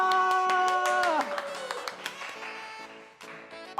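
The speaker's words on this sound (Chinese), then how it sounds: "我们掌声欢迎我们超人乒乓的黄教练" An audience claps to welcome a table tennis coach from the Superman Ping Pong club onto a coaching show. Brisk, rhythmic claps ring over a bright musical jingle, loud at first and then softening as the tune winds down.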